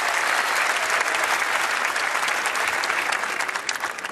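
Loud, dense applause from a comedy festival audience in Marrakech, steady clapping throughout that thins slightly at the very end.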